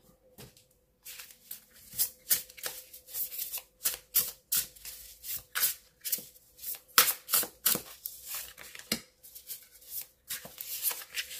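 Tarot cards being shuffled by hand close to the mic, a busy run of crisp riffling snaps and soft slides in uneven bursts over about ten seconds, with no talking.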